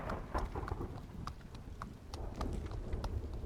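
A horse clip-clops at a steady walking pace in the video game Travellers Rest, with evenly spaced, fairly quiet hoof knocks over a soft ambient background.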